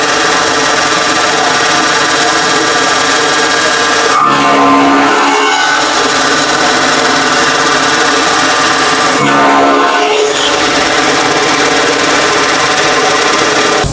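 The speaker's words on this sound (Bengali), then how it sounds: "এখনই আমরা এলোমেলো খড় কেটে সর্বপ্রথম দেখাবো" Straw cutting machine chopping loose, untied straw, a steady loud mechanical grinding and rattling that runs the whole time, with two brief surges of heavier chopping as batches of straw feed through.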